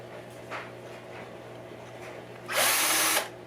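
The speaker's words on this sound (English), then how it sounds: "my drill with a 5/64 inch bit" A power drill with a 5/64 inch bit bores a pilot hole for a tuner in a Les Paul Junior guitar headstock: a short, bright, loud whine of under a second after quiet handling noises.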